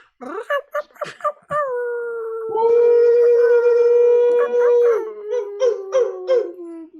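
Several people imitate a wolf howl in a group gathering, with short yips building into long overlapping rising and falling howls that fade into one sustained tone.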